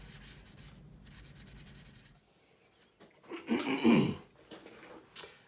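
Soft, close rubbing of a cloth wiping weathering grime across a 1/32 scale Spitfire Mk. XIVc model, in short scrubbing bursts, with a louder rub near the end.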